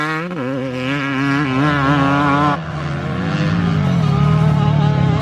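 A four-stroke motocross thumper engine snarls loudly through quick revs and shifts, its pitch rising and falling in bursts as the bike charges past close by on the track.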